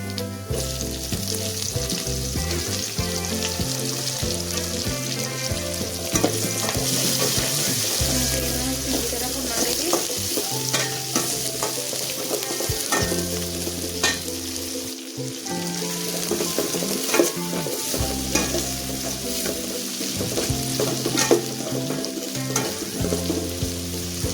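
Chopped onions fry in a pan for a quick rice dish, giving a continuous crackling sizzle with occasional stirring over a steady tonal background; a running tap or water also seems present.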